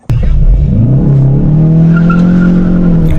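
A Hyundai Veloster N, a front-wheel-drive car, launches off the line at an autocross start, its engine holding a loud, steady drone that rises slightly in pitch, with a brief tire chirp at the very start.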